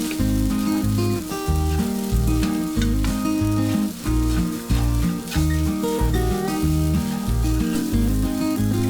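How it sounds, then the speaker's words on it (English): For egg kothu parotta, parottas fry and are stirred with masala in a pan, giving a steady sizzle and scraping stirs that sit beneath loud, rhythmic background music. "Then add the parottas which was previously kept and then give it a nice mix."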